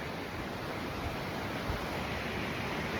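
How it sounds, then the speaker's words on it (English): A river swollen by high snowmelt rushes past at a trail crossing on the John Muir Trail, producing a loud, steady, broadband roar of flowing water with no pauses, close to the microphone. "So I don't know if you can hear, but this is a river crossing."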